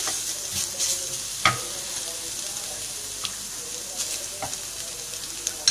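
Spice masala for beef and potato cutlets frying and being stirred in a pan, a steady close sizzle with scattered spoon scrapes and clinks, no talking.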